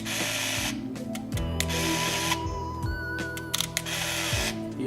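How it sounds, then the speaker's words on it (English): Thrift store film camera, its shutter fired and tested several times, giving short mechanical clicks and whirring bursts in an uneven rhythm, up close and moderately quiet, with no talking. "So let's test the shutter."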